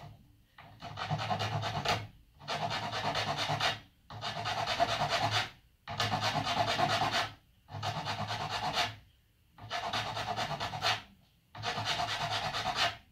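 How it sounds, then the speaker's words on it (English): A Nicholson rasp bevels the wood of a paddle bow in seven steady, evenly spaced rasping strokes, each lasting about a second and a half, close and clear with short pauses between. "I'm just beveling that top. Now I'm going to bevel it on the opposite side."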